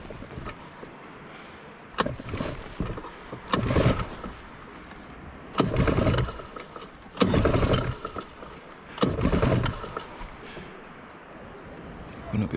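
A small outboard engine on a Jonny Boat fishing kayak at sea off Jamaica, pull-started with its choke off: five or six loud rasping cord pulls in bursts, each a brief sputter that fails to catch, with voices talking between attempts.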